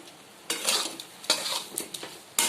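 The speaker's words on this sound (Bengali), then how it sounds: "এবারে একটু নাড়াচাড়া করব।" Pointed gourd curry stirred in a pan, several short bursts of a spoon scraping and clinking against the metal over a soft sizzle, close and fairly clear, no talking.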